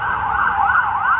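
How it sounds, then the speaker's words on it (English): Emergency vehicle siren wailing steadily in a rising and falling pattern, fairly loud and continuous, with distant road traffic underneath and no talking. "Sorry for the sirens in the back."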